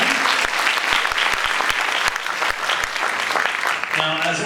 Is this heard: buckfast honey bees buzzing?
no